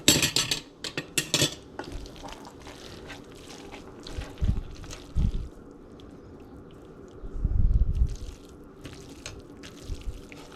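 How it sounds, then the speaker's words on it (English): Turkey tetrazzini being stirred in a pot on the stove, with a few soft scraping and clinking bursts of utensil against metal spread over quiet kitchen background. "It's just easier to mix it in the pot."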